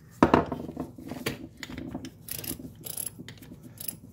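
A Pittsburgh 1/2-inch drive click-style torque wrench being reassembled and its parts snugged up, giving close, irregular metallic clicks, ratcheting and clinks of tools and small parts, with no talking.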